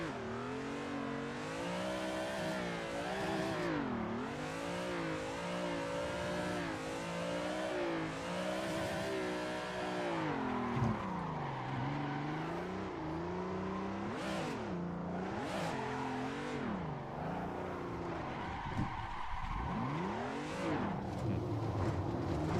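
A stock drift car in Assetto Corsa revs hard and steadily for a long stretch, the engine note rising and falling through slides with occasional tyre squeal, loud and close throughout.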